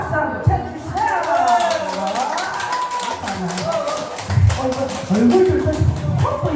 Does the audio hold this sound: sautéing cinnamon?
no